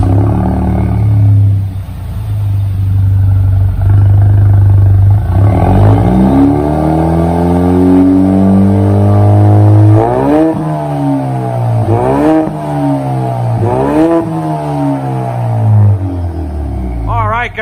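A 2016 Ford Mustang with a 2.3L four-cylinder EcoBoost turbo engine and Black Widow Race Venom mufflers idles loud and close, then revs in several sharp rising and falling pulls toward the end, with no one talking.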